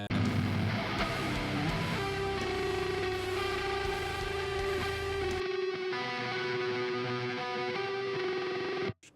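Electric guitar run through chorus, delay and reverb, playing a sustained distorted chord with ringing tones, then the low end drops away leaving a shimmering wash that trails off and cuts out abruptly at the end.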